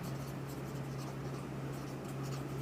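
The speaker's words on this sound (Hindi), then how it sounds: "तो हम क्या लिखेंगे" Writing on a board during a Class 10 maths lesson, a soft continuous scratching of strokes over a steady low hum, with no speech.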